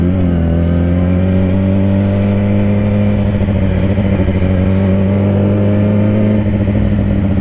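A Yamaha R1 sport motorcycle's engine drones steadily and loudly nearby, its tone holding for several seconds and then shifting slightly as it revs, with no voices over it.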